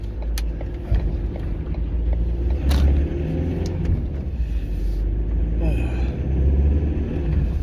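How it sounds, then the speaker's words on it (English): An Audi car drives past outside, a steady low rumble of road and engine noise that swells and fades, with some faint background sounds. "just let this car go past."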